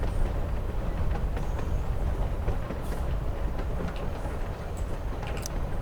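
A train from the video game Life is Strange Before the Storm rolls steadily along the rails with a continuous low rumble and faint rhythmic clatter, no voices over it.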